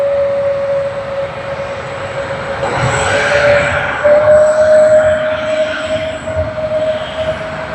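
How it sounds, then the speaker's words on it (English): An Emirates A380 on flight EK412 from Dubai comes in to land at Sydney Airport. A loud, steady engine roar with a sustained whine swells for a few seconds midway and then holds under the wind. "EK412 Dubai to Sydney on the A380 is on finals"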